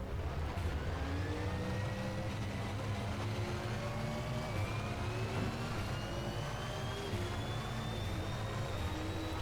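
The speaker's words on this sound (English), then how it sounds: "So we've got the engine started, and we're pulling out of the pits." Race car engine in a sim racing video game pulling out of the pits, a steady loud drone with slowly rising pitch as it gathers speed, no voices.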